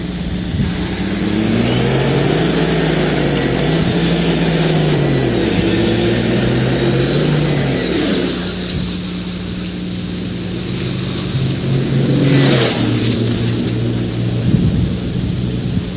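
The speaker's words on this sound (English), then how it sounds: "96 mile an hour pass that time for Jim Disher after a wild burnout" A drag race car at the NHRDA World Finals roars down the strip on a 96 mph pass after a burnout, engine pitch climbing through gear changes, then fading before a second loud burst of revving near the end.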